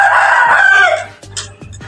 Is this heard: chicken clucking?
yes